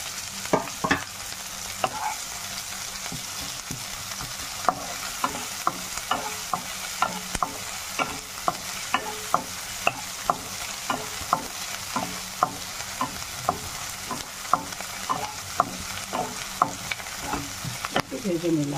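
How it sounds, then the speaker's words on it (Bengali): Onion and ginger paste fry steadily in a pan, a continuous close sizzle broken by regular sharp clicks of a utensil stirring and scraping, with no talking. "একটু ভেজে নিলাম, পেঁয়াজ আর আদাটা ভাজা হয়ে গেছে।"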